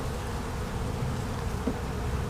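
Honey bees from a captured swarm buzz in a low, steady drone throughout a hive inspection, with a fairly quiet and even hum and no talking.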